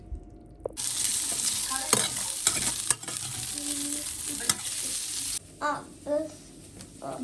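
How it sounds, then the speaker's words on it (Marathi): Cumin and asafoetida crackle and sizzle loudly in hot ghee for several seconds, with a few clinks of stirring, before the hiss drops away. "याच्यामध्ये थोडंसं तूप जिरे हिंग घालून परतून घेऊयात"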